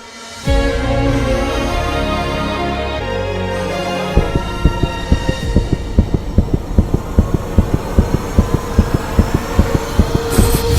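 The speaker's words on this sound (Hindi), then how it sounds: "ये किसी इंसान के दिल की धड़कन नहीं है, मानो कि जैसे किसी मशीन से ऑपरेट हो रहा है।" A fast, steady heartbeat pulses loudly and rhythmically as a sound effect over a droning musical background, the beats speeding into a rapid even throb.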